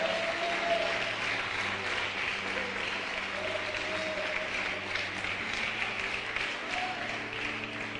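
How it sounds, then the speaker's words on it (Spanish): A church congregation gives a strong, sustained round of applause, with dense, even clapping filling the room for about eight seconds. "Den un aplauso fuerte al Señor."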